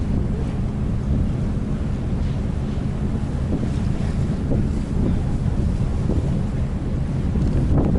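A Star Ferry boat ride across the harbour in Hong Kong carries constant wind buffeting and a low, rumbling wash of water and engine, loud and unbroken throughout.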